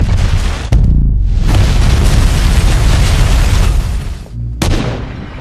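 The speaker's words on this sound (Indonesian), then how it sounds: "albino yang telah menyiapkan sebuah bom berhasil memberikan Ethan dan agen CIA lainnya sebuah" A bomb goes off in an action film, a very loud sharp blast that swells into a long roaring boom, with a second sharp crack near the end.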